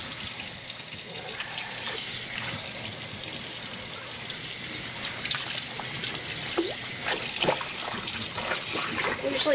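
Hand-dyed cross stitch linen, dyed with mango and watermelon, rinsed under a running tap, a continuous splashing gush of water into a sink with scattered drips and sloshes, no talking.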